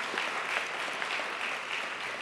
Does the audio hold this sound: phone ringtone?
no